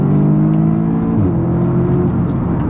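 Audi S3 engine pulling hard under acceleration, a steady loud drone with rising harmonic tones from inside the car, continuous throughout with no talking.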